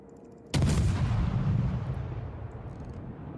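A warship's secondary guns fire in a naval video game: one sudden loud, close blast bursts out of a quiet background, then a heavy rumbling tail fades away over the next few seconds.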